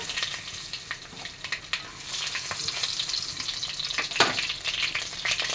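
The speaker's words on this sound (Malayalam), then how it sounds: "ഒരു കടായി ചൂടാവാൻ വെച്ചിട്ടുണ്ട് രണ്ട് ടേബിൾ സ്പൂൺ ഓയിൽ ഒഴിച്ച് കൊടുത്തിട്ടുണ്ട് ഇതിന് ശേഷം കടുക് ഇട്ട് കൊടുക്കാം" Mustard seeds and dried red chillies fry in two tablespoons of hot oil in a kadai, a continuous close crackling sizzle with scattered pops and spatter, louder toward the end.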